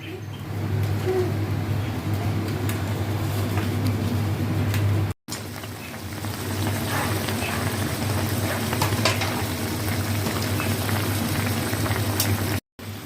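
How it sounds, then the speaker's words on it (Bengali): Lote fish wrapped in banana leaf cooking on a gas stove, giving a steady low sizzle and bubbling hiss with faint crackles, continuous and close, with two brief dropouts. "গ্যাসে বসিয়ে দিয়েছি আর আমি লোটে মাছ কিন্তু ধিমি আজে হতে দেবো"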